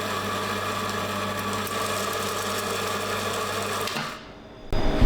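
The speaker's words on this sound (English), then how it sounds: "So I'm just going to turn on the grinder for a little bit." Coffee grinder grinding beans, a loud steady motor whine with dense grinding texture running continuously for about four seconds before winding down and stopping.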